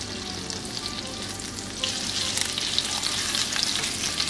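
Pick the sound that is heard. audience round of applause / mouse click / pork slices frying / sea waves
pork slices frying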